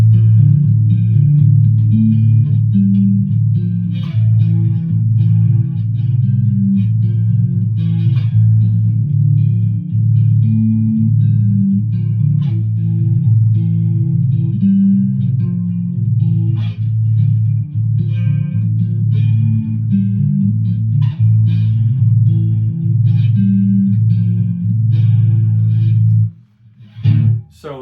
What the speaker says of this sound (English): So a little bit of chorus on that effect, compressor, I think just a touch